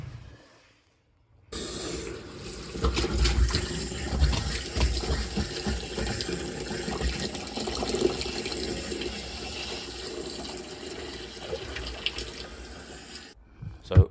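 Water rushing through domestic pipes after a cold supply is reopened during a boiler installation, a steady hissing flow that starts abruptly after brief silence and runs continuously before cutting off.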